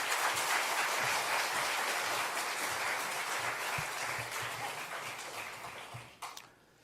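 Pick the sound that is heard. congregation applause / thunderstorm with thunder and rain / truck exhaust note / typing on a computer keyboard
congregation applause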